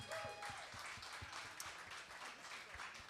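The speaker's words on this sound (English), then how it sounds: "Let's give them a round of applause." A small audience applauds a band during an evening interview at X-Cues, with steady clapping under faint background tones.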